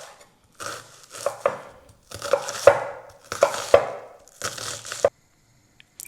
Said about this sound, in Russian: Я сейчас измельчу, а потом мы уже приступим к обжариванию лука.